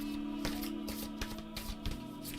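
Tarot cards shuffled by hand in a steady run of soft riffling bursts over a constant low hum, with no talking.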